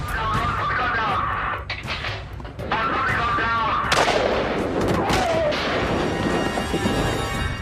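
Gunfire in a police shootout with a sniper. Sharp cracks and booming shots come in bursts over a noisy, chaotic background, some near and some echoing, with a voice talking at times.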